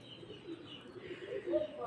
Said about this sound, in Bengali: এখন যে কবুতর জোড়া দেখতে পাচ্ছেন এ জোড়া হচ্ছে এক পেয়ার সাকি টেডি কবুতরের বাচ্চা